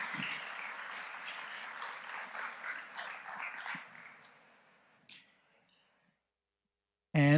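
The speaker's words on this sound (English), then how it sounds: "Please, a round of applause." Applause at a school board trustees' meeting honoring a staff member, a room of people clapping steadily for about four seconds before it thins out and dies into near silence, followed by a sudden loud burst at the very end.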